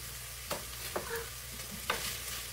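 Butter melting in a pan with cooked sage sausage and its fat, a soft steady sizzle broken by a few light clicks and scrapes from a utensil.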